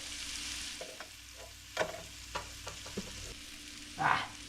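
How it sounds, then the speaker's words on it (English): A small pat of butter sizzling faintly in the bottom of a pan, a soft steady hiss broken by a few quiet clicks and taps of a utensil, with no talking. "I'm going to put a little bit of butter in the bottom of the pan"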